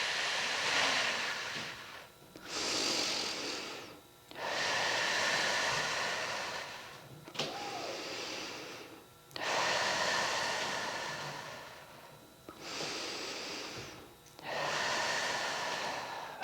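Slow, deep breaths during a pelvic floor core breath exercise, long airy inhales and exhales in a steady rhythm with short pauses between them, close and clear with no talking.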